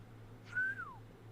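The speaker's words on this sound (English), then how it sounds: "Whistle." A single short whistle in the video game Xenoblade Chronicles 3 rises then slides downward, clear and fairly soft over a quiet low background hum.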